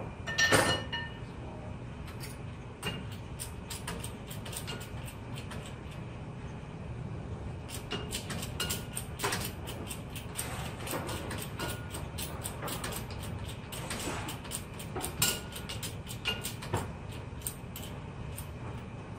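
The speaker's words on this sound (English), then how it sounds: "So our mold is now jacked up to the appropriate height." An injection mold for HDPE scrap being jacked up to the nozzle height, giving a series of faint metallic clicks and ratcheting creaks spread across a quiet mechanical background.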